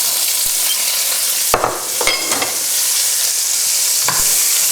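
Chopped leeks frying in a hot pan, a steady close sizzle broken by a few knocks and stirring scrapes, with no talk.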